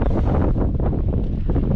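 Loud, low roaring gusts of strong wind of about 25 knots at an anchorage, buffeting the microphone, rumbling steadily with no speech.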